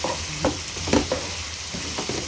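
Chili powder and spices fry in oil in a pan while being stirred, giving a close, steady sizzle broken by a few scraping strokes of the spoon.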